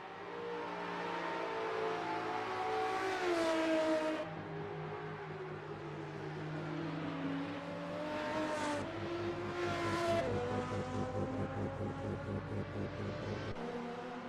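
Group C race cars roar past at full throttle in the closing laps of a championship race, engines rising and falling through several revving passes over about fourteen seconds, loud and continuous.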